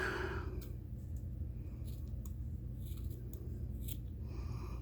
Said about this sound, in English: I'll just cut the end off